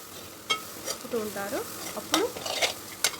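Eggs frying in a pan for egg rice are stirred with quick scraping strokes over a soft sizzle, several distinct stirring bursts close by, with a brief spoken word.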